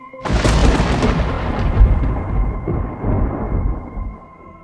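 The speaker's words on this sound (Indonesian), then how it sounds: "Petir masih menyambar-nyambar di atas sana." A heavy rumble of thunder breaks in suddenly and rolls on, loud and low, slowly fading over several seconds with no voices.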